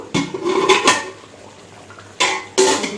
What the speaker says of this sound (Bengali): এবার আমি চাপাটা নামিয়ে নেব।